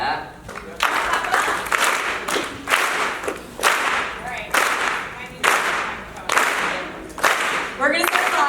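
Audience clapping in a rhythmic pattern of loud, evenly spaced claps roughly every half second, with voices and crowd noise in between, during a live performance.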